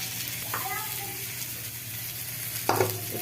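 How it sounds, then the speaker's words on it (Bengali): Potatoes fry in a pan over onions with a steady low sizzle and hum, broken by a couple of brief scrapes from stirring near the end; close, no clear talking. "আলুগুলো ভেজে নেব।"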